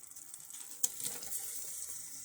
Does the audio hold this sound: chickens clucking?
no